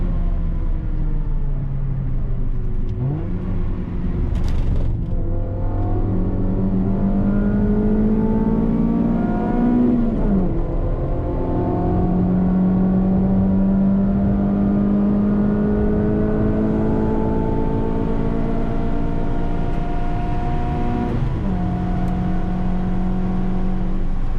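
Honda Civic engine held in 3rd gear while racing into Beckett's at Silverstone, a steady loud drone with rising and falling harmonic whine as revs climb and dip across the lap, continuous and close, no talk.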